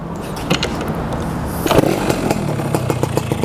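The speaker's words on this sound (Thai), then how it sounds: "รถเครื่องดีมากสำหรับคันนี้ ผมให้ฟังเสียงหน่อย" A used motorcycle's engine runs close by with a busy, buzzing idle and steady revving, a brief louder burst near the middle, and no talking over it.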